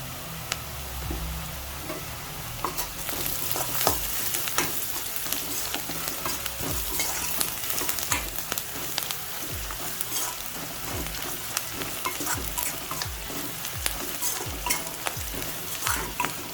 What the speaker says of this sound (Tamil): வெங்காயம் வதங்கட்டும். கொஞ்சம் பெருங்காயம் சேர்த்துடலாம்.